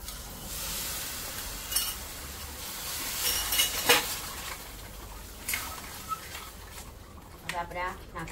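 Masala spices roast and sizzle in a pan, with a steady frying hiss, occasional stirring scrapes and utensil clinks, while someone talks over the cooking.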